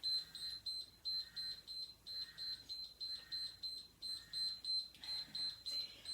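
A workout interval timer beeps in a steady repeating pattern, clusters of high electronic tones about once per second, fairly loud and alone with no talking.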